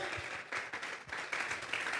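A church congregation offers applause during a sermon, a steady, moderately faint patter of many hands clapping with a loose rhythmic pulse, continuous throughout and without talk over it.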